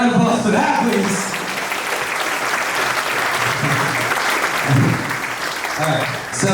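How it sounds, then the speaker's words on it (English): An audience at a CNY Film Professionals gathering breaks into a sustained round of applause, dense clapping filling the room for several seconds while voices carry over it. "can I get a round of applause for that, please?"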